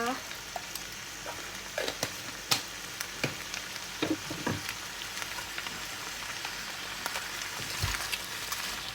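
Shrimp and vegetables stir-fried in a pan with light soy sauce, a steady soft sizzle under scattered clinks and scrapes of the spatula against the pan, with someone talking over it.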